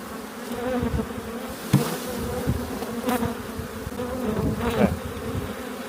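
Honeybees buzz steadily around an opened hive being split into a new box, a dense close drone with individual bees zipping past the microphone and a few light knocks of handling.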